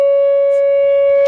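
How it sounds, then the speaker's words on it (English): An emergency siren system test in Lake Charles sounds a loud, steady single-pitched wail with rich harmonics, holding unbroken from start to finish. "Look at that siren."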